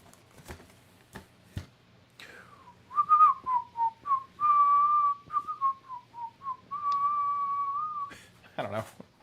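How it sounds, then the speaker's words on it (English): A person whistles a wavering tune solo, with steady sustained notes broken by short gaps, close to the mic and clear, after a few soft knocks and clicks. "I'm whistling."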